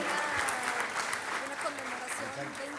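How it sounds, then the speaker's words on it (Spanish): Applause sending off guests at the close of a Spanish-language panel discussion on results-based management: sustained crowd clapping with voices mixed in underneath, steady and fairly full. "un fuerte aplauso los despedimos"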